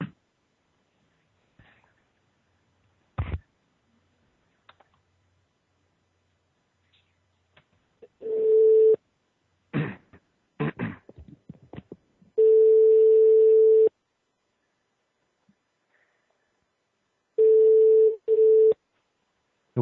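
Telephone call tones sound while a number is being redialled: three long steady beeps spaced apart, with scattered clicks and handset knocks between them. The tones are loud, clear and close, with no talk over them.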